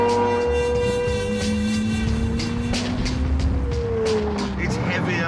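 A Tricolore car, a quietened, softer version of the R on normal road tyres, drives with a loud, steady engine drone and rising and falling gear pitch, close up under continuous voice.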